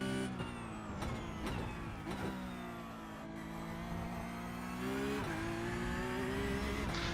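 A Porsche Cup race car at Laguna Seca downshifts into first gear and accelerates onto the straight. The engine is heard from inside, rising and falling through quick gear changes, then pulling hard with a steady, loud drone and no talk over it.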